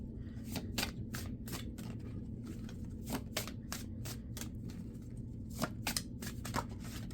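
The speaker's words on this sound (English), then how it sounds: "let me shuffle for you guys" A deck of oracle cards being shuffled, a series of crisp riffling bursts in irregular clusters, close and soft, with no talking.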